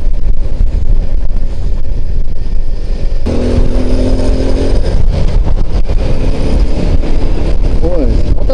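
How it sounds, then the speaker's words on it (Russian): A Alpha moped engine runs while riding, a loud, close, steady drone with rising and falling pitch, someone talking over it. "Мопед у меня. Вот это я еду."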